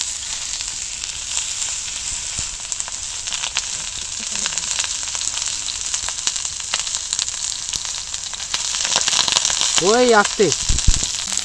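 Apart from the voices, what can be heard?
brinjal and tomato frying on a tawa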